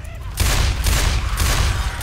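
Rapid gunfire in a zombie video game, a dense burst of shots that starts after a short pause and keeps going loud and continuous to the end, with a voice briefly heard at the start.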